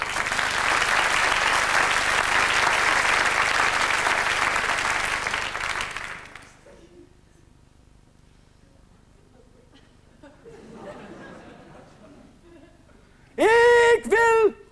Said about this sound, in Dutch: een hartelijk applaus voor Groot Oog!